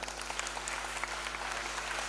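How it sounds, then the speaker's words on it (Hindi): A crowd gives steady, fairly soft applause for actor Yashpal Sharma at a live event, dense clapping continuing evenly for about two seconds with a low hum underneath. "आप लोग सब लोग मिल करके जोरदार तालियां बजाएं"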